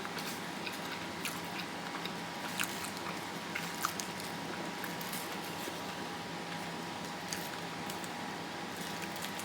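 Close, soft biting and chewing on a Philly cheesesteak loaded with cheese, with faint wet squishes and small clicks over a low steady background hiss, no talking.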